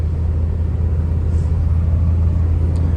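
A truck engine idles along at about 2,000 RPM, a steady, close low rumble with a constant drone and no voices over it.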